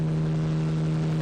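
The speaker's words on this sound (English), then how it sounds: "I hear a helicopter." Helicopter in the horror game Corpse Party Blood Drive, a steady loud droning engine hum with a strong low tone, continuous and unbroken.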